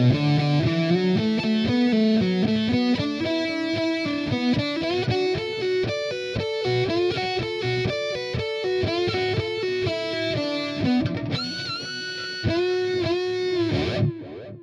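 Distorted electric guitar slowly plays a solo, a steady run of picked notes with effects, ending in sustained ringing notes and a slide, loud and alone.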